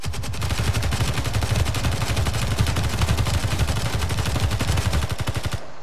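Interior turrets firing inside a ship in the Space Engineers video game: rapid, continuous, loud automatic gunfire with evenly spaced shots for several seconds before stopping abruptly.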